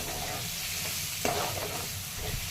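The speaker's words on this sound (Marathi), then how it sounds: "कढीपत्ता, हळद टाकलेली आहे थोडीशी, मिक्स करून घ्यायचं आहे" Curry leaves and a little turmeric are stirred into a pan of fried cumin, mustard seeds and onion for a mung dal dish, giving a steady low sizzle with a single sharp scrape of the spoon partway through.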